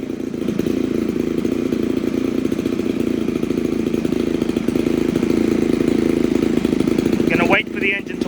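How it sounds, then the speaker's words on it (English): A Hangar 9 X Cub model airplane's small petrol engine runs steadily after an electric start, a loud continuous buzzing drone that holds an even pitch throughout, briefly dipping near the end as another faint sound cuts in. "press the start button"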